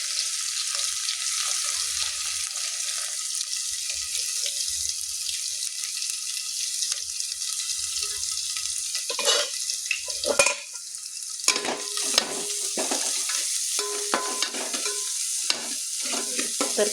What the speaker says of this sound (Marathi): तर इथं टाकलं तर आपलं लसूण काय जिरे, इथं कोथिंबीर आणि लसूण.